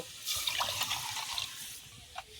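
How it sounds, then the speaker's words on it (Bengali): Water pours from a bowl onto rice in a pot for Basanti pulao, a close, steady splashing gush that tapers off, ending with a single drip, and no talking. "এই বাটির 1 বাটি চাল নিয়েছি, 2 বাটি জল দেব।"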